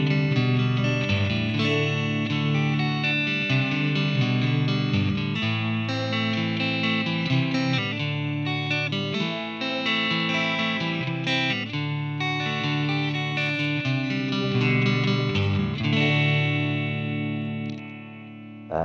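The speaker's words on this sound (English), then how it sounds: "Playing through a Fender Mustang GT modeling amp with a twin reverb model with a little bit of reverb" Electric guitar chords ring out through a Fender Mustang GT modeling amp set to a Twin Reverb model with a touch of reverb, on a Mexican-made Fender Telecaster or Stratocaster, strummed continuously and loud with sustained, shimmering chords.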